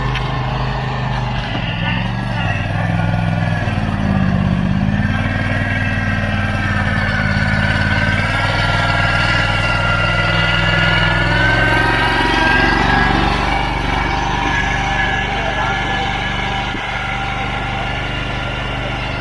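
A motorized power buggy loaded with 2A gravel drives up a hillside, its engine running in a steady, loud mid-pitched drone that rises slightly in strain partway through, with no talk over it.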